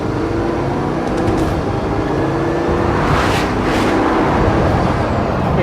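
Bugatti Veyron Grand Sport, 2013, accelerating hard at full throttle: a loud, steady, dense engine roar that holds strong throughout, with rising whooshes of rushing air and road noise in the later part.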